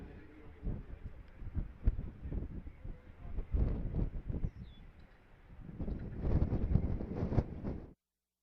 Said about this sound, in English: A gorgeous, windy day up here on the hill.